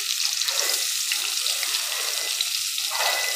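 Onions frying in oil with cumin and garlic cloves, a steady bright hiss of sizzling, close and constant, with no talk.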